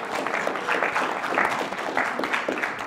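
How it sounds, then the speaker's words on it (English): An audience claps inside a mosque, a dense patter of many hands that rises and falls in waves for a few seconds, fairly close and without speech over it. "I want to give all of you a big round of applause for coming over here"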